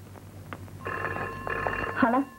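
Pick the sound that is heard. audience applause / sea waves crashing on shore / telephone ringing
telephone ringing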